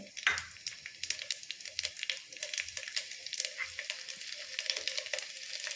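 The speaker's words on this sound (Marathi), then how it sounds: "तूप कडकडीत झालेलं आहे। 1 चमचा जिरं टाकते आहे" Cumin seeds sizzling in hot homemade ghee in a pressure cooker, a steady bright crackle and spitting up close with faint clinks, no talking.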